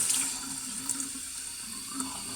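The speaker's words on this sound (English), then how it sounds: "Okay, just give it a little rinse." Tap water runs steadily into a kitchen sink while a knife is rinsed after cutting raw beef, a close, continuous splashing hiss with no talking.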